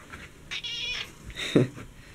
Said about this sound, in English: Meow and look.